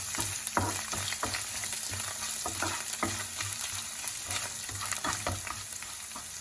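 Grated ginger frying in a pan for hotel-style pongal, a soft continuous sizzle broken by a steady run of light clicks and scrapes from stirring, close and fairly quiet.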